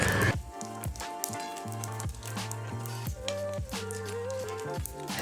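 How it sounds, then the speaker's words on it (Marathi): Dried red chillies, cumin seeds and coriander seeds fry in hot oil, giving a steady close sizzle with soft wet crackles and pops; a faint tonal whine sits beneath. "यामध्ये आपण लाल सुक्या मिरच्या घालूयात एक चमचा जिरे एक चमचा धने घालूयात आणि हे आता थोड्या वेळ आपण चांगलंसं परतून घेऊयात"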